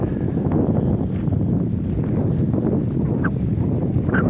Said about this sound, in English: Pretty windy out here, so we'll just head back.